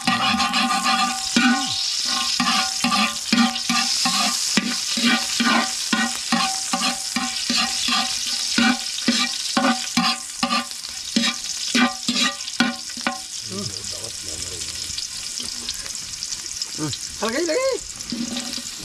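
Onions frying in a pan are stirred in a quick, steady scraping rhythm over a constant sizzle, and the stirring stops near the end while the sizzle carries on under occasional talk.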